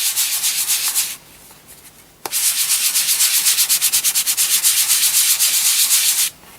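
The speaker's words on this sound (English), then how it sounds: "I'm using a piece of sandpaper here that is classed as 100, okay, so it's 100 grit, and then literally I use a circular motion." Sheet of 100 grit sandpaper rubbed in circular strokes over a Das clay plaque, a loud close scratchy rasp in steady pulsing strokes, pausing briefly near the start before resuming without talk.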